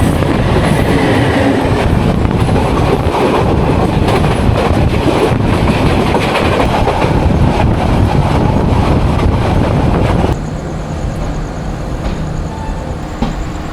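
The Agnibina Express, a passenger train on the Mymensingh to Dhaka line, roars steadily along the rails with dense rumbling and clattering wheels. The noise stays loud and continuous, then abruptly drops to a quieter interior hum near the end.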